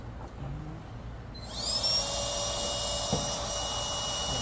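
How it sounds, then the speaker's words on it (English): An electric air pump switches on partway through and runs steadily while topping up a self-inflating camping air mattress in a Tesla Cybertruck truck bed, giving a close, even whirring hum with a rising whine as it starts. Nobody speaks. "And then put the pump back on, turn it back on."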